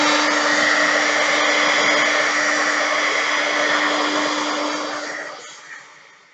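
A heat tool warms a layered wood stamp with a loud, steady blowing whir and a constant hum, then winds down and fades near the end. No one speaks.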